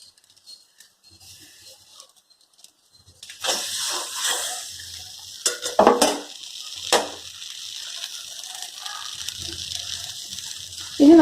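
Masala fish frying without oil on a thick banana leaf in a pan gets flipped over, a quiet sizzle swelling into louder crackling with a few sharp scrapes and clatters of turning.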